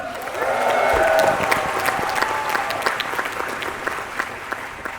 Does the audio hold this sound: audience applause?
yes